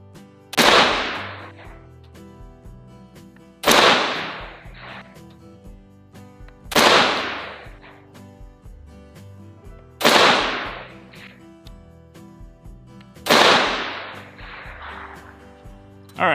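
Five loud, close rifle shots from a 300 Blackout rifle fitted with a Brownells BTAC 16-inch barrel, evenly spaced about three seconds apart, each a sharp crack with a short decaying echo at an outdoor range.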